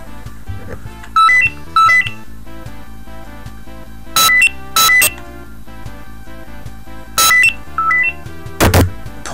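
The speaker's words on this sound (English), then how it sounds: "I just have to ignore that phone call" Electronic phone ringtone chirps in repeated short bursts of bright, high beeps, recurring roughly every couple of seconds over a steady bed of retro 8-bit game music from a Double Dragon session.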